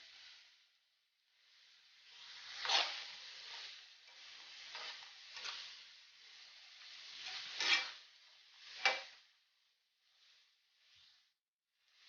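Onions, green chilies and coriander leaves frying in a pan, a soft hissing sizzle that swells with each stir and then settles, close but fairly quiet.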